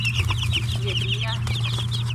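Newly hatched Aseel chicks, a fighting-chicken breed, give rapid high cheeping and peeping calls close by, with clucking fowl and a steady low hum underneath throughout.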